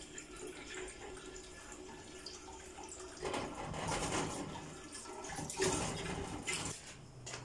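Tap water running into a pot on the stove for custard, with sugar to be dissolved in it: a steady soft rushing splash that swells and grows louder midway, fairly faint, with no voices.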